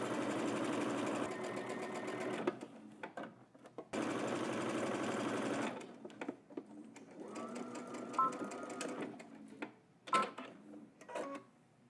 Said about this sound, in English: let's head to the machine. We're going to stitch from one end all the way down to the bottom